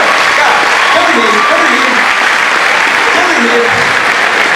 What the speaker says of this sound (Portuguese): salva de palmas para vocês que dançaram aqui